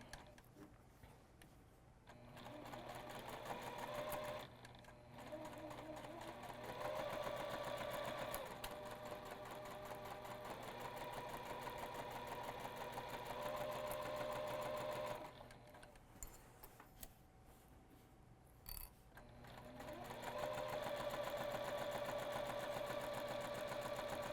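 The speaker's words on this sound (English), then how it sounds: "I'm going to back stitch a couple times here at the end." Sewing machine stitching the lining seam of a fabric tote bag, a steady mechanical whir running in long bursts with short pauses between, close and alone, with no voice over it.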